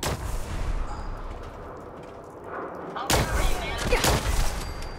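Gunfire and explosions from the video game Fallout 4 boom out in dense, heavy bursts, first steady and then louder after a sharp blast midway, under game ambience with a voice talking over it.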